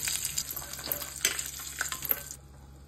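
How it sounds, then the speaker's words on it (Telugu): Garlic fries in hot oil in a pan, a faint, close crackling sizzle with a few stirring scrapes, fading out near the end. "వెల్లుల్లి ఎక్కువ ఫ్రై అవ్వకూడదండి. ఇవి కొంచెం వేగాయండి."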